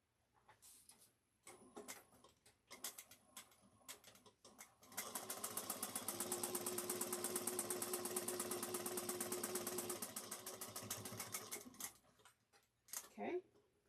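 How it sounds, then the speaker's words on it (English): A sewing machine topstitches a cotton shoulder bag at one-eighth inch, running with a fast steady stitching rattle for several seconds after a few short bursts, close and fairly loud, then slowing to stops. "We're going to top stitch this top at 1/8 of an inch."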